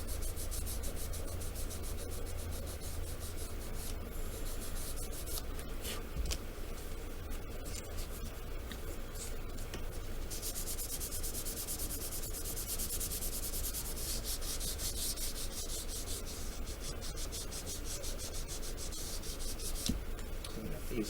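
Fine 800-grit sandpaper rubs steadily over seams and edges of a plastic AMT Star Trek D7 battle cruiser model, a close, unbroken scratchy hiss of rapid strokes that brightens midway, with no voices.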